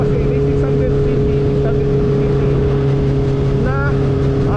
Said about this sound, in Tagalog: tunog na naibibigay ng isang inline 4 na motor